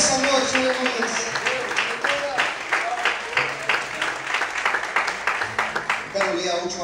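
Church congregation clapping loudly in praise of God during an evening service, a sustained crowd of hands beating in quick uneven bursts beneath a preacher's voice and background music.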